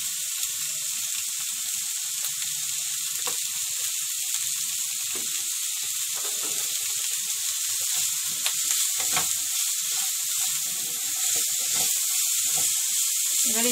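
Chopped onions sizzle in hot oil in a pan after being salted, a steady close hiss with small crackles, running without a break and with no talk.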